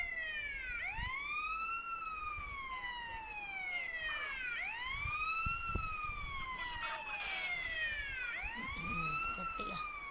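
A video-game ambulance in a GTA-style CJ mission wails its siren in steady rising-and-falling sweeps, loud and continuous for about ten seconds over street traffic noise.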